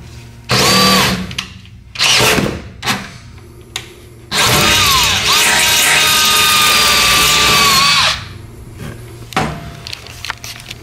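A power drill drives screws in several short bursts, then runs steadily for about four seconds before stopping, close and loud, with clattering handling noises between.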